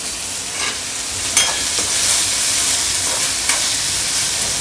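Chopped onion softening in a pan with about half a teaspoon of salt, giving a steady close sizzle throughout, broken by a few brief spatula scrapes and stirs.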